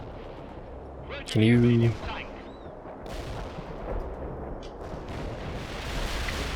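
Artillery firing in the strategy war game World in Conflict: Soviet Assault: one loud, brief blast early on, then a constant low rumbling battlefield din, with a voice speaking briefly.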